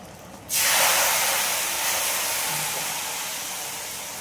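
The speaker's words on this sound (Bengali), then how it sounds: "তেলটা গরম হয়ে গেছে বন্ধুরা, এবারে আচারের মধ্যে তেলটা ঢেলে দিচ্ছি" Hot oil poured into a chalta (elephant apple) pickle sets off a sudden, loud, broad sizzle that starts sharply and then hisses on steadily, slowly fading, with no talking.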